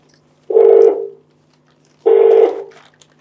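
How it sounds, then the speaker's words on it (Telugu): A telephone places a call, sounding two loud, evenly spaced electronic tone bursts of under a second each, separated by a gap of about a second, alone with no talking. "అన్నయ్యకి ఒకసారి ఫోన్ చేద్దాం."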